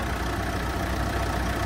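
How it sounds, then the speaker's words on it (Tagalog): A Mitsubishi Montero engine idles steadily, a continuous low rumble with a constant broadband hum, close and unbroken, with no voices over it. "Yung tunog ng makina, maririnig natin."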